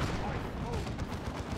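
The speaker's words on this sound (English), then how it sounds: "Leman Rush turns its turret and shoots at the Strike Squad" Leman Russ tank turret fire in a Dawn of War 2 battle, a thick wash of booming shots and gunfire, loud and continuous through a short stretch, with a commentator talking over it.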